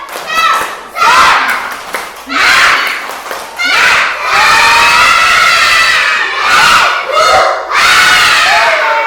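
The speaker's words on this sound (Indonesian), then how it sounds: "mari kita relaksasi dengan tepuk semangat bersama" First-grade schoolchildren clapping and chanting a spirit cheer together in class, loud rhythmic bursts of young voices and claps in repeated phrases, with a teacher's voice leading between them.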